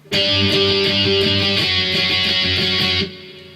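A loud, distorted electric guitar riff from a song chugs through a quick repeating pattern for about three seconds, then cuts off abruptly.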